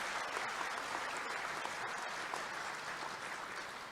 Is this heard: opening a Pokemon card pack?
no